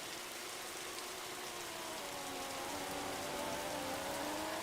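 Steady rain hiss in a racing video game during a wet Grand Prix, a constant dense wash of noise with a faint engine tone rising underneath, no talk.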